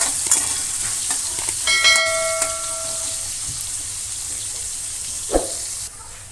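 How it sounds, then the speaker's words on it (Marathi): Onion sautéing in a pan for soybean pulao, a steady close sizzle with a brief ringing metallic clink early on and a single scrape of the spatula later. "तर आपल्याला हा कांदा परतून घ्यायचा आहे।"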